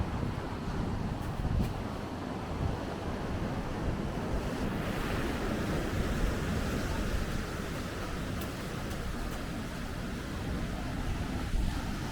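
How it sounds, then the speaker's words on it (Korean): Sea waves on the California coast surging into rocky crevices, a steady broad roar of surf with wind buffeting the microphone, continuous and fairly close throughout with no voices. "이 바닷물이 이렇게 틈바구니에 계속 치고 들어오니까"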